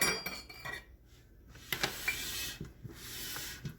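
A stand mixer is scooted across a kitchen counter, giving a few close, quiet scraping rubs and light clunks with no one speaking.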